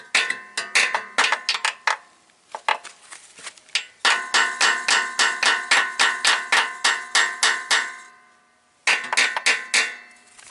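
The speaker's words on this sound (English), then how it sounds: "Give it a bit of a tap with the hammer" Hammer tapping a stuck part during an oil change on a tractor, sharp metallic knocks in quick bursts of repeated strikes separated by short pauses, close and fairly loud, with no talking.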